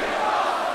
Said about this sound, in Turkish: Seyirciyi duyuyorsun değil mi?